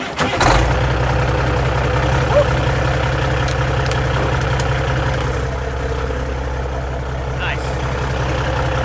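A Peterbilt pull truck's big diesel engine cranking over and settling into a steady deep idle, close and loud, with voices speaking faintly over the rumble.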